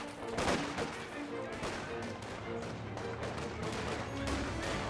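Volksgrenadier squads lay down focused rifle fire in Company of Heroes 2, a distant, steady crackle of shots mixed with battlefield rumble and faint background chatter.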